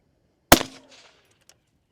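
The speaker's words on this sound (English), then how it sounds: "We're shooting our Ruger American rifle, and we have our Scythe TI suppressor here." A 22 ARC Ruger American rifle fitted with a Scythe TI suppressor fires a single suppressed shot at a concrete highway barrier: one sharp close crack with a brief decaying tail, then a faint small tick.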